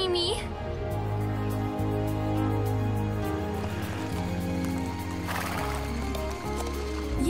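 A cartoon horse whinnies briefly against a dense bed of orchestral background music from an animated series, then the music continues alone.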